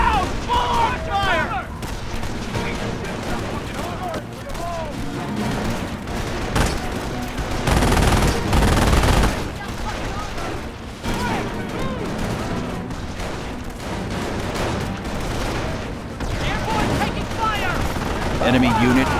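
Gunfire rattles through a Company of Heroes battle in Carentan, with repeated rifle and machine-gun bursts, a heavier boom in the middle and shouted soldier voices mixed in throughout.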